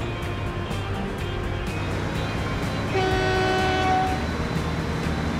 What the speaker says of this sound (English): since this is a very lightweight train, it should be getting up to top speed rather swiftly